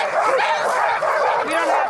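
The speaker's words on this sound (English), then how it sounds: "We have a lot of dogs, so it's going to be kind of wild." A large team of sled dogs barks and yips excitedly in a loud, continuous chorus at close range during winter in Alaska, with yelps and whimpers overlapping throughout and people talking amid the noise.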